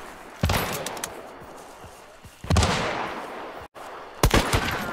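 Gunshots in a shooter video game ring out as a few sharp loud single cracks spaced apart over steady game ambience, with no talking.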